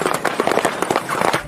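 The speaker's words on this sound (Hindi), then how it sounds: "मूवीज में पटाखों के फूटने की आवाज कुछ इस तरह कार को बलून के ऊपर चलाकर रिकॉर्ड की जाती है" A car driven over balloons so they burst like firecrackers, a dense, loud run of rapid pops and cracks crowding one another without pause.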